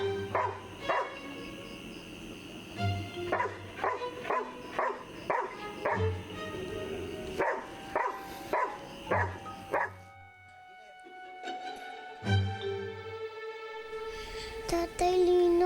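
A dog barks repeatedly in short, loud bursts, mixed with a few higher yips, over roughly the first ten seconds, with people talking around the barking and a brief lull before more voices.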